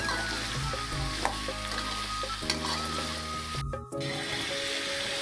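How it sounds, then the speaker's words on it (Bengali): Garlic paste being stirred in a hot frying pan for a Chittagong ghonto curry, with steady sizzling and scraping strokes throughout and a brief drop in the middle. "রসুন বাটা দিয়ে দিলাম আবার আর একটু নেড়ে নিতে হবে"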